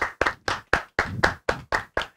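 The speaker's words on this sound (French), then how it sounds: "on m'applaudit dans le chat" Clapping sound effect triggered from a livestream chat, a quick run of about eight evenly spaced, crisp hand claps, close and clear with no talk over them.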